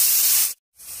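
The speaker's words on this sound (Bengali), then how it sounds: "লবণ দিয়ে ভেজে নেব।" Carrots fry in hot oil with salt, giving a loud, bright sizzling hiss that cuts out abruptly for a moment and then returns slightly quieter.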